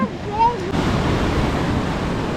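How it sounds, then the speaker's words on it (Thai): Strong wind buffets the microphone at an English seaside near Amble, a steady roaring rush that takes over after a brief stretch of voices at the start. "ลมแรงมากเลย"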